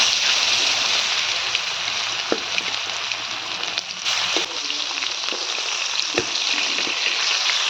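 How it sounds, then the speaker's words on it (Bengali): Pieces of snakehead fish fry in a pan of hot oil, giving a steady, close sizzle and crackle with a few sharper pops scattered throughout, no voices. "এবারে আমি মাছগুলো ভেজে নেব।"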